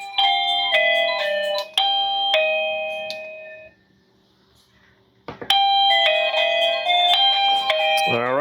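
A wireless 3K video doorbell's chime rings out loud and close, a multi-note electronic melody played twice with a short quiet gap between the rounds.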